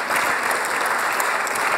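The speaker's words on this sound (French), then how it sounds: "on l'applaudit pour qu'elle vienne nous rejoindre sur scène" Applause from an event audience at a startup pitch competition final on stage, a steady, dense clapping that fills the whole short stretch without voices on top.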